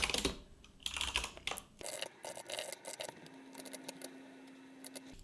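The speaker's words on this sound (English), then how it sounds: "I am desperately trying to remember what I can about regular expressions as I'm typing this" Computer keyboard keys clacking in quick irregular runs while regular expressions are typed for a coding puzzle, close-up against a noisy room background.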